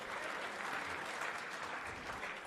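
Darts crowd at the WDF World Championship applauds, a dense, steady burst of clapping from a large audience filling the room with no pauses.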